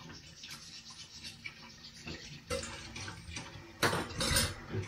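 Water runs from a tap in a quiet kitchen, a soft hissing stream that swells louder toward the end, with light clinks of a pot.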